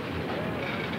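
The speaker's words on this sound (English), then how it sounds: "A freight train is made up of cars from railroads all over the country." An L&N freight train rolls along the rails, making a steady, dense rumble with faint wheel clatter that stays constant and fairly close throughout, with no voices.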